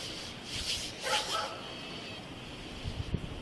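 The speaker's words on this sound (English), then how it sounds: "Is that dog chained up?" A chained dog barks a few times at a distance outdoors, faint beneath steady background noise during a tense street confrontation.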